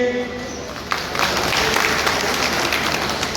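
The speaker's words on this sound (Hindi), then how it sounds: "देखो ताली बजाओ तो जोरदार बजाओ" Sustained applause from a crowd at a political rally starts abruptly after a brief moment and continues steadily, loud and dense.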